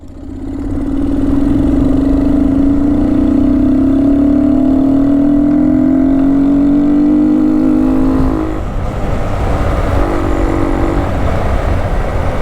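A BMW S1000RR sport motorcycle engine in a downtown setting, a loud close drone rising steadily in pitch for several seconds before easing off and settling, with no talking.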